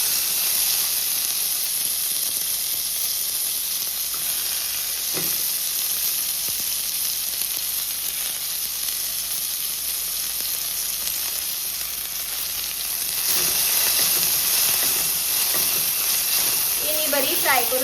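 Onions and spring onion greens frying in a pan for vegetable pulao, a steady close sizzle and hiss throughout with occasional stirring clatter, under faint background voices.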